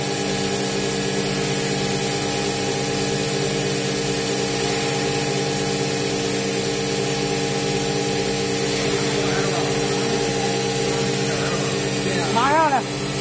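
A power tool grinds steadily with a sustained, loud whine that holds for the whole stretch, while people talk nearby.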